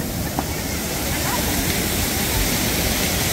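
Water fountains at a large outdoor water park in Lima, Peru, splash and rush in a loud, steady wash of noise that fills the whole stretch without a break.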